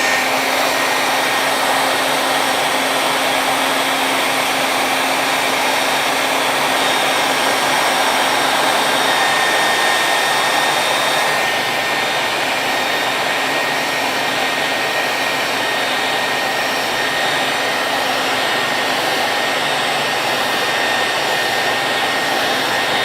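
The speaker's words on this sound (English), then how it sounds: "Let's heat it up. I do have a heat gun" A heat gun blows hot air in a steady, loud, broadband roar with a faint whine, continuous for over twenty seconds and heard alone with no talk.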